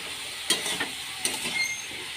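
Mixed vegetables for sukto, seasoned with turmeric and salt, are stirred in a pan under a steady hissing fry, with two or three brisk spatula scrapes and knocks close by and no speech.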